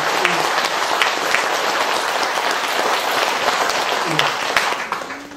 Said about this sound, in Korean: 우리 장한버섯 스님께 큰 박수로 감사의 박수 부탁드리겠습니다